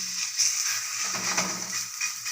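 Shenga holige, a peanut-filled flatbread, sizzles on a hot tava in a home kitchen, a soft steady hiss with faint crackles, close and even.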